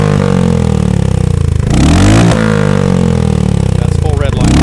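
Royal Enfield Hunter 350 motorcycle with a Coffman's shorty slip-on exhaust revving hard toward redline, a loud close engine roar rising and falling in pitch, with someone talking over it.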